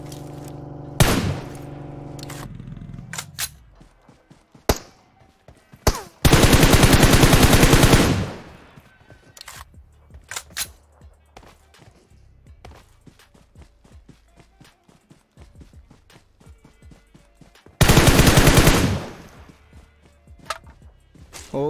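Tap-fired gunshots in the battle-royale game PUBG Mobile, a handful of sharp single cracks spread irregularly across the clip, plus two longer dense bursts of loud noise, over faint background game sounds.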